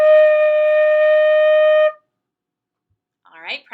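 One steady, sustained note on a small baby flute, played with a single key pressed, held clear and fairly loud for about two seconds, then silence before a short bit of speech.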